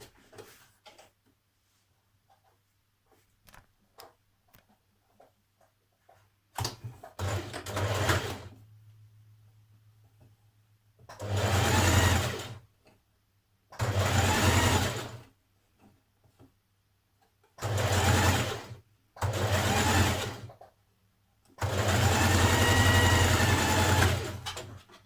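A sewing machine stitches the curved sleeve seam of a Burda 6222 dress, running in five separate bursts of steady motor whirr and needle chatter with quiet gaps between, close and clear.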